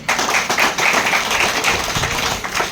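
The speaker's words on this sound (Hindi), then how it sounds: "श्री राम जी के लिए एक बार नाम ताली बजाओ।" An audience at a seminar in Bhopal clapping together, a rapid, dense patter of applause that continues steadily without pause.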